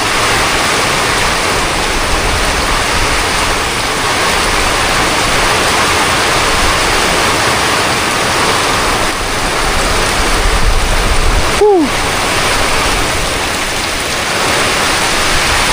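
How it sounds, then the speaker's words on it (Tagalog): Typhoon Basyang brings a heavy, continuous roar of rain and wind, loud and dense for the whole stretch, with a brief squeaky call cutting through near the end. "Siguro ito na yung bagyo."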